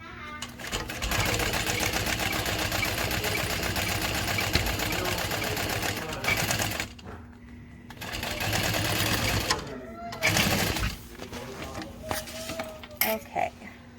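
Domestic sewing machine stitching a backpack, bursts of rapid whirring hum in several runs separated by pauses, with light clinks and handling noises in between.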